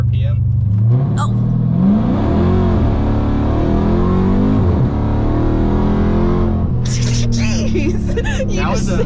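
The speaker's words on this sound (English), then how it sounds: "We are about to try another launch, but like brake control, no launch control from a dead stop." A Dodge Hellcat launches from a dead stop using brake control rather than launch control, its engine rising from about 1500 RPM into a loud, climbing roar with gear changes, heard close from inside the cabin, with a voice near the end.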